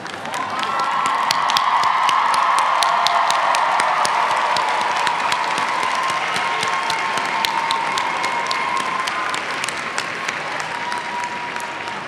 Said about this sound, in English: join me in thanking your family and friends with a